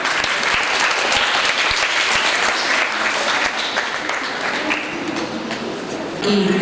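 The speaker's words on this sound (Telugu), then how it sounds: "చప్పట్లు గట్టిగా" Loud, sustained applause from a crowd gathered at a meditation hall event, dense clapping continuing evenly for several seconds before easing slightly toward the end.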